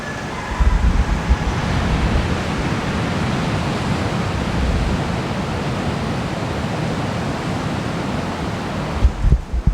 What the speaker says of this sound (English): listen to the sound of the waves and just the breeze and everything